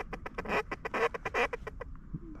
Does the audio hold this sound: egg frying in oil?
no